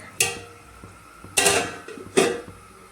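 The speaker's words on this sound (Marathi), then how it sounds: "तर आपण हिला अजून एकदा झाकण ठेवूयात" A lid goes onto a pan of cooking cluster bean (guar) curry in a home kitchen, giving three sharp metallic clanks, close and distinct, spaced about a second apart over quiet background.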